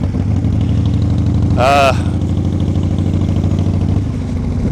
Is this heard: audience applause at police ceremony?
no